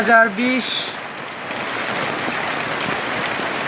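Steady, dense rain falls at Charmonai, a loud, even wash of drops on surfaces that follows a brief voice at the very start.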